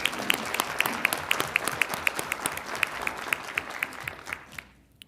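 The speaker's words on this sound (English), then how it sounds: "Let's give them another round of applause." Audience applause at a city council meeting in Las Cruces, a steady wash of clapping from a room full of people that carries on for several seconds before thinning out and fading away at the end.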